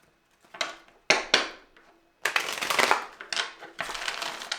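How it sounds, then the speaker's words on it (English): A deck of Rider-Waite tarot cards being shuffled by hand: several close, crisp bursts of riffling and flicking, uneven in length, with short pauses between them and no talking. "Let's do another shuffle here."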